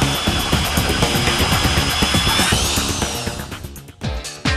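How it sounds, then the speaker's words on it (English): A drill-mounted dual-blade tenon cutter on a standard half-inch drill grinds loudly into a log with a rough, pulsing whine that steadies, then winds down and stops at the end. "The dual blade cutter fits easily onto a standard half-inch drill."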